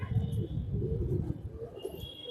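A female pigeon with reddish eyes, black and cumin-coloured plumage, coos softly in low rolling murmurs, close by and fairly quiet, no talking.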